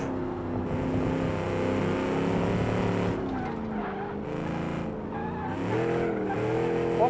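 A 2010 hot hatchback with a sequential gearbox in the Automation racing game, its engine droning steadily, dipping and climbing through gear changes, with hints of tire squeal under the loud, continuous motor noise.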